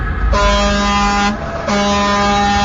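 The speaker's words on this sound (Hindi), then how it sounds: "एक जोरदार आवाज आई जो उनके बगल से गुजरती हुई ट्रक के हॉर्न की थी।" A loud truck air horn blasts twice, a long tone then a second after a brief gap, over rumbling engine noise close by.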